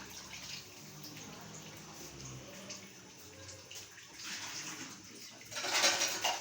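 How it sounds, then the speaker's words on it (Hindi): Water runs in a soft, steady stream into a pot for beef keema pulao, mostly a low continuous splash that grows slightly louder and brighter near the end, with no speech. "और अब जो हम इसमें 4 कप पानी शामिल करें"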